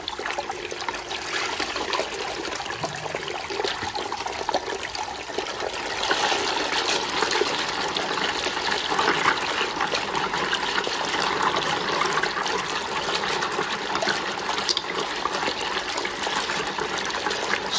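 A SHYSKY DC55E-24160S 24V 80W micro brushless DC water pump pushes water out through its outlet, giving a steady, continuous rushing gush of moving water that swells slightly louder partway through and holds close and even to the end.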